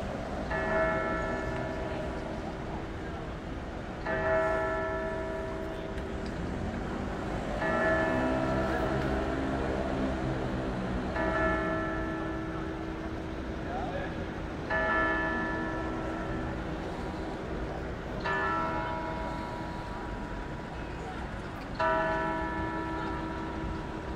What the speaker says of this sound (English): they run the bells for my video